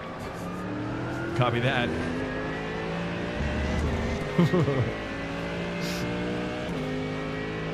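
A Corvette GT3 race car engine in the iRacing sim at Daytona Road drones steadily through the gears with shifts and revs, under brief radio-style talk.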